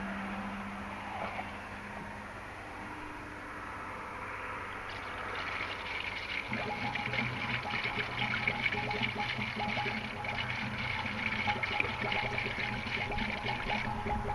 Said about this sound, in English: I'm refilling the rad. I've got my spill-proof funnel and the rad cap and reservoir cap off.